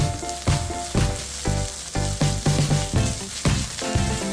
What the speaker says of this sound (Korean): 밥이 고슬고슬하게 잘 볶아졌다면 금방 볶아둔 고기를 넣고 한 번 더 볶아주세요.